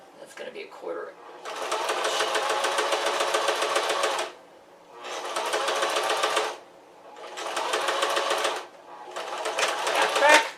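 Sewing machine running in four sustained bursts of rapid stitching through walking-shorts fabric along a quarter-inch seam edge, with short pauses between runs; close and steady.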